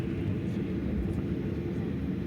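A steady, low engine rumble and drone fills the cabin of a Biman Bangladesh airplane slowly taxiing toward the runway, constant and even throughout.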